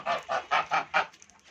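A goose honks five times in a quick, even series of loud nasal calls, each short and evenly spaced, followed by faint quiet movement, with no talking.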